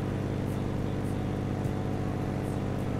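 A vehicle engine in the video game H1Z1, on an ATV map in battle royale mode, holds a steady low hum throughout with faint whirring, alone without voices.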